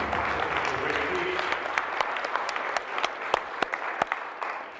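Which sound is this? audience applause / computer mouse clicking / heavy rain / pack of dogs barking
audience applause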